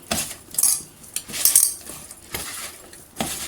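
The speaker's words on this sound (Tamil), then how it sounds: "நல்லா மிக்ஸ் பண்ணி விட்டுட்டு" A spoon clatters and scrapes around a bowl as ivy gourd pakoda batter is mixed with Kashmiri chilli powder, in loud, close, repeated bursts of clinking and stirring.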